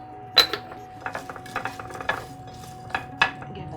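Onion wedges with olive oil and coarse sea salt tossed in a baking dish, giving a few sharp clinks and rattling scrapes at irregular intervals, close and fairly quiet with no talking.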